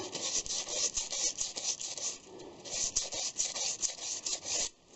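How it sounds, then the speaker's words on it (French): A brush scrubs a freshly cut nut thread on a metal lathe, making a close, bristly rasping sound in quick irregular strokes that stop abruptly near the end. "Alors, de nouveau un coup de brosse"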